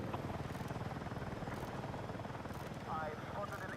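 Helicopter in the shooter game Battlefield 6, a steady rotor thrum and engine drone running throughout under speech.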